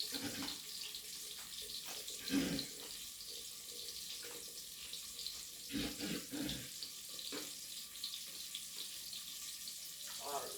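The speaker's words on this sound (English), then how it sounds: "So I'm pouring in my ginger tea." Ginger tea is poured into a cup, a steady faint liquid trickle in a home kitchen running throughout, with a few soft clinks and splashes along the way.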